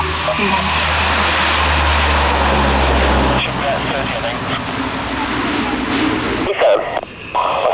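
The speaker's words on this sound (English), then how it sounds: "we've just seen the Hercules take off" A Lockheed Hercules takes off at the 1995 Fairford airshow, its loud, steady propeller-engine roar filling the air before easing and thinning as the aircraft climbs away, with crowd noise and a commentator's voice mixed in.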